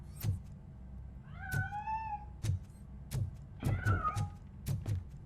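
A cat meows repeatedly in the video game RoboCop Rogue City, several distinct mewing calls spaced through the clip, with a few drawn-out rising meows among short soft thuds, fairly close and clear with no talking.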